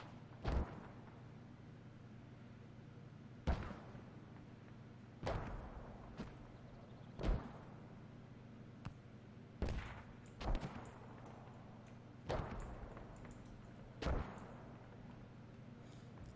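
Mortar rounds land in a tactical shooter, about eight distant sharp thuds spaced every couple of seconds over a steady low hum, fairly faint with no talking.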